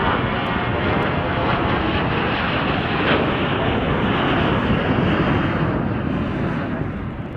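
An airplane departing Chicago O'Hare on a winter evening, its engines giving a loud, steady, continuous roar that fills the whole stretch without letting up.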